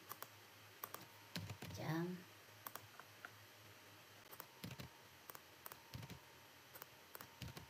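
Fingers tap out a short word on a computer keyboard while filling in a teacher's target form, quiet scattered keystrokes in small bursts, with a brief voice partway through.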